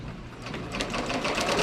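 An embroidery machine runs a tack-down stitch, giving a quick, even mechanical whirr and chatter up close for a moment and a half, alone with no talk.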